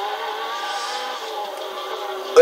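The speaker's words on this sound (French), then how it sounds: "Je vais mettre à fond là." Race car engine held at full throttle in Gran Turismo 6 during a Le Mans endurance race, a steady high-pitched whine with stacked harmonics, fairly loud and continuous, ending in a brief sharp bump.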